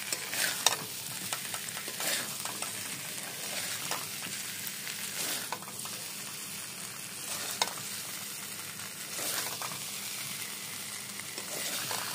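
Potatoes are stir-fried in a pan with a constant low sizzle. A spatula scrapes and stirs them in occasional sharper strokes, close by, with no voices.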